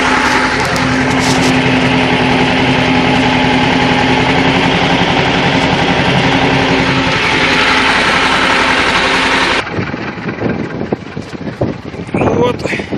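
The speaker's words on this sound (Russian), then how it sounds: "Трактор сразу на грузку пошел." A T-25 tractor engine pulling a used Polish cultivator through a garden plot after the bean harvest, running loud and steady under load, then turning rougher and choppier near the end.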